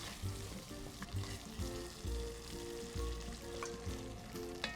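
Diced beef fillet with mushrooms fries in a pan as a browned sauce builds, a steady sizzle under a low rhythmic rumble and faint tonal hum, close but fairly quiet, with no speech.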